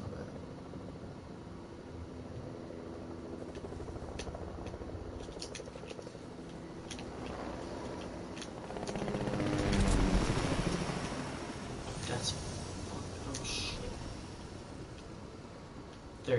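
A helicopter in the Fortnite battle royale game hums with a low rotor drone that swells as it draws near, peaks briefly, then eases back to a steady background rumble, with no voices.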